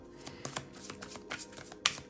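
Tarot cards riffle and flutter in quick bursts, a crisp papery shuffling close by, ending with a sharper snap.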